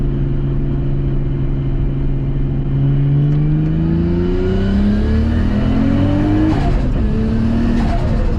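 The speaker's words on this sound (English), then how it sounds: "Turbo sounds so sick. We'll do a quick little highway pull." A tuned, turbocharged Nissan Skyline R33 revs hard on a highway and climbs steadily in pitch as it accelerates, with a turbo whine over a loud, continuous rumble and road noise.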